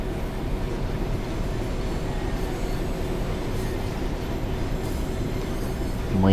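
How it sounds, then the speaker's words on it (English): Another train passes close by on the Birmingham Cross City line, heard from the cab of a rail head treatment train as a loud, steady rolling rumble with a faint squeal from the wheels. "There's another train."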